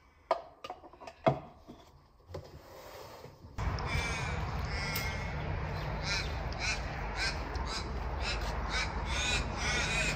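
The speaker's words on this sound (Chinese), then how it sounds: "有听到乌鸦在叫吗？" Crow cawing outdoors in Melbourne: several sharp, separate caws in the first few seconds, then a steady, loud wash of background noise takes over.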